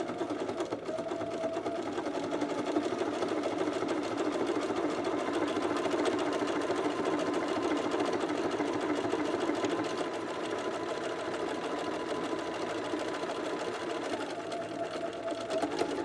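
A home sewing machine with a buttonhole foot stitches a buttonhole on pants fabric, a steady, fast mechanical whirr that runs unbroken and close up with no voices.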